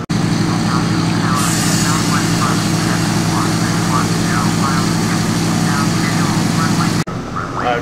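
Steady, loud propeller drone of a Douglas Super DC-3 R4D-8 (C-117D) on landing approach in Microsoft Flight Simulator, a constant engine roar that drops away abruptly near the end, with a voice speaking over it.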